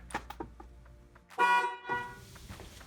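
A car horn sounds once, a short loud honk triggered when a TPMS relearn tool finishes with a tire sensor, following some quiet handling clicks and followed by faint thumps nearby.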